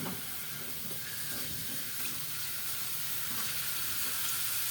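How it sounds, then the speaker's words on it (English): Garlic frying in preheated oil in a pan, a steady, dense sizzle that holds evenly for a few seconds with no voices over it. "We preheated some oil and we're gonna put in our garlic"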